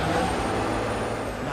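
Truck air brakes in the video game Marvel's Spider-Man 2 release a loud, steady hiss of air over a low engine rumble, continuous and close throughout.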